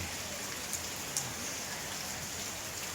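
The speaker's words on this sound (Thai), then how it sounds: "วันนี้ฝนตกด้วยนะครับ" Steady rain falls outside around a hive of stingless bees under a raised house, a dense even hiss with a few faint drop ticks and no talk.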